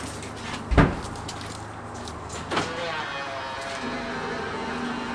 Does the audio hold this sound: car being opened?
yes